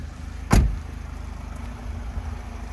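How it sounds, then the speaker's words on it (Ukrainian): A 2011 Renault Trafic passenger van with a 2.0 diesel engine rated at 115 hp idles with a steady low rumble, broken by one sharp, loud clunk near the start. "Чуєте, автомобіль працює просто ідеально."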